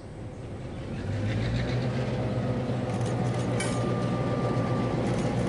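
A Conrail switcher locomotive in original blue livery moves gondola railcars in a Chicago yard, its engine rumbling up from quiet to a steady, loud drone with faint metallic squeals mixed in.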